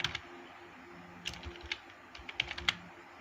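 Computer keyboard keys tapped while text is entered in a Microsoft Word document, several quiet scattered clicks with a brief cluster near the end, close and alone.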